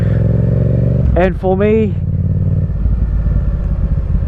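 Yamaha MT-07 crossplane twin engine and exhaust rumbling steadily and loud close by, with a brief rev rising and falling around the middle, while someone talks over it.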